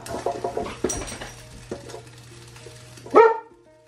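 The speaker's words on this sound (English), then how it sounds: "Sorry, the dogs are getting rowdy." Several dogs bark rowdily in a home kitchen, a quick run of close, loud barks with a sharper yelp near the end, over clinking dishes and a low appliance hum.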